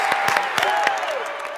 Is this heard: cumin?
no